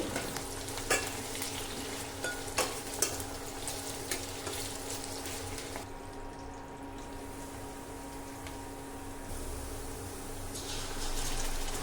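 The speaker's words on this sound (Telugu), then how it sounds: "ఇవి ఫ్రై అయిన తర్వాత కట్ చేసి పెట్టుకున్న ఉల్లిపాయలు వేసి బాగా ఫ్రై చేసుకోవాలి" Chopped onions fry in a pan for chicken curry, giving a steady close sizzle with intermittent sharp scraping and clicking from stirring, a brief quieter stretch midway, then the hiss swells again near the end.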